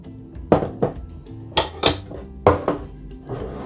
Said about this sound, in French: moi je vais battre les jaunes d'œufs taillés avec les 125 g de sucre